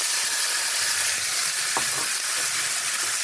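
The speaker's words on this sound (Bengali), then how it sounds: "আমি কপিটা এর মধ্যে দিয়ে দিলাম।" Cauliflower drops into hot oil spiced with bay leaf, a dried red chilli and five-spice for a cauliflower dalna, giving a loud, close, unbroken sizzle.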